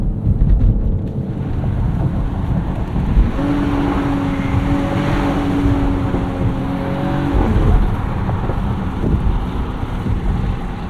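A 2022 Mercedes GLE 53 AMG SUV is driven hard through corners at night, its engine a steady loud rumble inside the cabin with road and wind roar and a brief rising tone mid-run.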